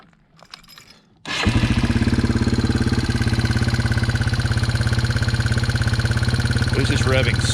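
Yamaha TW200 motorcycle engine starts after a second of quiet, then idles steadily with a loud, rapid, even thumping pulse close by, no talk over it.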